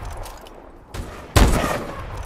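Gunfire in the Call of Duty Advanced Warfare multiplayer game, a soft shot followed by a loud close burst of rapid fire that rings on, with no talk.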